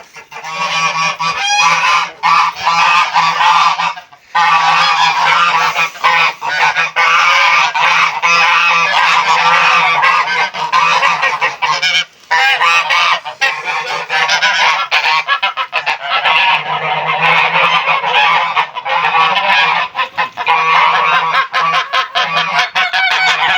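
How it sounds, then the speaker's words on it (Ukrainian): Domestic geese honk loudly and close by in a farmyard, a near-continuous chorus of harsh, nasal calls with a few brief pauses, no talk heard. "Пішли, пішли на гусочку."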